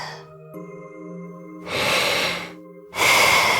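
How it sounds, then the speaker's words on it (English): Steady sleeping breathing in the video game Ys X, two long slow breaths heard as soft whooshing swells over sustained background music, with no voice. "The sound of Karja's steady breathing fills the air."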